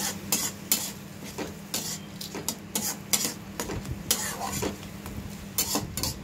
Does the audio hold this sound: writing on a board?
no